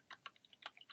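Rapid typing on a computer keyboard ending with a press of the Enter key, a steady run of crisp close clicks in a quiet room.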